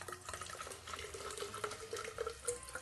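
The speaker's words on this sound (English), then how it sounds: "take your hydrogen peroxide and pour it in to your flask" Hydrogen peroxide poured into an empty flask makes a faint, continuous liquid trickle and splash with small bubbling flickers, quiet and close with no talking.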